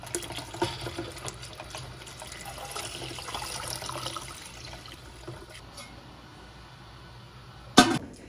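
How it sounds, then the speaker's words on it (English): Running water splashes steadily over canning jars for several seconds, fading toward the end, followed by a sharp clink near the close. "I'm going to wash my jars."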